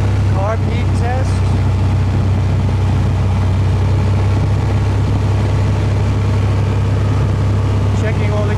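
A Piper Cherokee aircraft engine holds a steady, loud, low drone at about 2,000 RPM during run-up tests, continuous and unchanging for the whole stretch.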